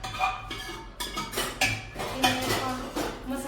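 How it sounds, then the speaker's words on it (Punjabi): Dishes, cooking pots and steel utensils are washed in a Punjabi home kitchen, with repeated close clanks, clinks and scraping of metal against metal in an irregular rhythm under faint background noise. "ਫੇਰ ਕਰਾਂਗੇ ਭਾਂਡੇ ਸਾਫ ਭਾਂਡੇ ਸਾਫ"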